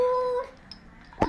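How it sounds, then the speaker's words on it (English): A dog indoors at a family home lets out a short, close, tonal howl lasting under half a second, followed by quiet and then a brief sharp noise. "Doggy."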